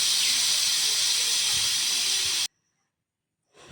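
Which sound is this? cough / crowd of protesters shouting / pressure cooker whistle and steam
pressure cooker whistle and steam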